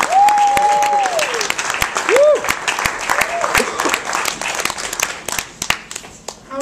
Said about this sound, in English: Put your hands together for Mr. Nick Vino Slim Nicky.